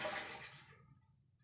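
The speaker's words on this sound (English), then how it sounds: "So I'll just go ahead and flush, and hopefully you can hear the difference there." A toilet flush rushes loudly at first, then drains away and fades into a low gurgling tail; the toilet refills slowly after flushing.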